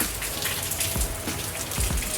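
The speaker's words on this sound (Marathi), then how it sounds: "नुसता पाऊस पडतोय." Rain falls steadily outdoors in the Konkan, with a dense patter of drops and occasional louder splashes close by, and no voices.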